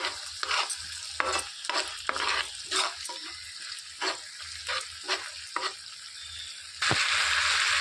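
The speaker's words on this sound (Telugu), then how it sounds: "సోయా సాస్ టమాటా సాస్ వేసుకొని మొత్తం కలిపేసుకోవాలి" A spoon scrapes and stirs chicken Manchurian with soy sauce and tomato sauce in a sizzling pan, giving rhythmic strokes over steady frying, followed by a louder burst of sizzle at the end.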